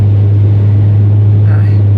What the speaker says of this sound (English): This car's a little bit noisy today.